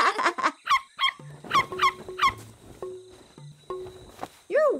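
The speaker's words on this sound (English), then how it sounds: "The kea is easily recognizable by its distinct kea call." Shrill, repeated calls of a kea, the alpine parrot of the mountains, sounding as a run of loud nasal squawks close by, followed by a rising whistled cry near the end, over a cartoon music backing.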